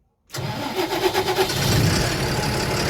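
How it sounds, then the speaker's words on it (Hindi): A Tata BS6 diesel truck engine cranks and fires after a moment of silence, then settles into a loud, steady idle close by. "ये हमने गाड़ी को स्टार्ट कर दिया।"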